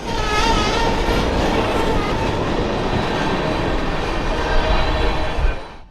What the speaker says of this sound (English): As the train pulls away,